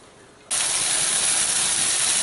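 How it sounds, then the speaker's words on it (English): Brandy flambéing in a pan with shrimp and scallops for a brandy cream sauce bursts into a loud, steady broadband roar and hiss after a brief quieter moment, continuing unbroken without talk. "That's the brandy cooking off."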